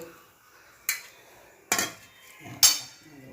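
A spoon mixes jackfruit seed batter in a bowl, making three distinct clanks against the bowl spaced under a second apart, with near silence between them.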